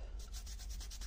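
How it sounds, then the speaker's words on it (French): An eraser rubs away excess glue on a home-decor craft piece in steady back-and-forth strokes, about seven soft, quiet scrapes in an even rhythm. "Alors, allô, ici ma gomme. On enlève le surplus de la colle."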